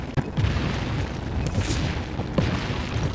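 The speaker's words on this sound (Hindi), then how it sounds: "ये किधर धमाके हो रहे हैं" Explosions in the PUBG Mobile battle royale game, a steady rumbling roar of booms and blasts, loud and dense, with a few sharper impacts standing out.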